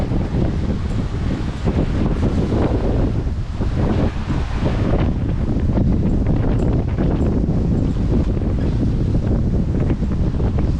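Strong wind of about 17 knots buffets the microphone continuously aboard a boat at sea, with the wash of high waves and water rushing underneath, loud and unbroken throughout.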